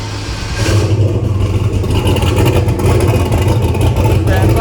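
A turbocharged drag car engine runs close by with a loud, rough, clattering roar that holds steady, and voices may be faintly mixed in underneath.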